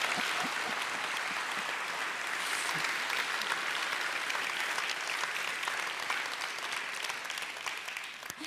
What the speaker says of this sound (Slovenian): Jaz mislim, da ste jim premalo glasno zaploskali.